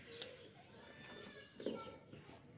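A hornless desi goat with long ears, a dairy animal at a goat market, gives a clear, fairly close bleat with a wavering tone, then a shorter call and faint background voices.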